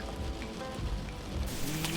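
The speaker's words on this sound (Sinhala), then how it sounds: "අදත් වහිනවා." Steady rain falls on a day of heavy weather, a soft continuous hiss of drops striking a surface close by, with no voices present.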